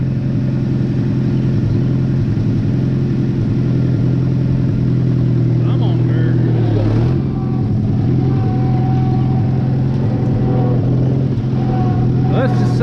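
A John Deere tractor engine runs steadily in second gear, a loud, continuous low drone with a brief dip in load midway, close and constant throughout.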